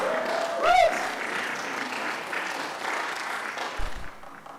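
Audience applause at a community organizing gathering, a steady wash of clapping from a crowd that holds for several seconds, with a brief voice-like tone early on and a few sharper claps near the end.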